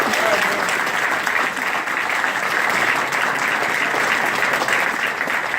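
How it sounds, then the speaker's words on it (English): An audience at a re-entry gala in Philadelphia gives sustained applause after a speech by the mayor. The clapping is loud and dense, with crowd noise blended in. "We're going to be a round of applause once again."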